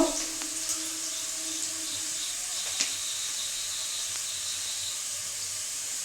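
Ingredients fry in a pan with a steady, soft sizzling hiss, close and even throughout, with a faint clink near the start and no talking.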